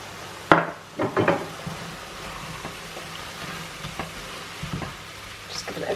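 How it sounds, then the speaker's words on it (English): Minced meat sizzling in a hot pan while a spoon stirs it through cumin, with scraping clatters early on and then a steady, soft frying hiss broken by occasional stirring knocks. "A good stir, making sure the cumin is coating all the meat."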